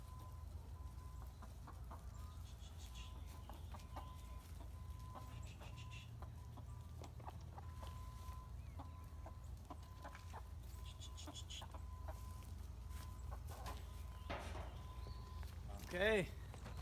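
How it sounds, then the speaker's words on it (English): Hens in a central Texas farm pen cluck faintly and intermittently at mid distance, under a steady low outdoor rumble and someone talking, with a louder squawk near the end. "Okay, so the hens are in."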